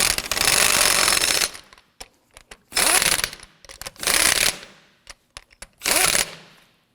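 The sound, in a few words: impact wrench snugging lug nuts, 2008-2011 Ford Focus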